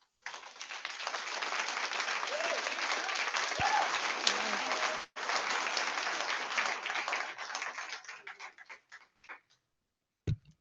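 An audience at a school board meeting breaks into sustained applause, many hands clapping steadily for several seconds with a brief gap, then thinning into scattered claps and a final lone clap.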